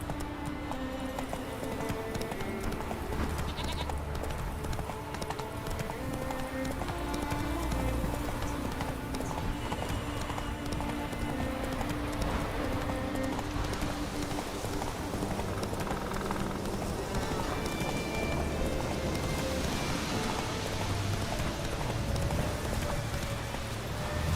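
Roach, a horse in The Witcher 3 video game, gallops with steady clip-clop hoofbeats in a continuous rhythm, set against a constant background of game ambience and music.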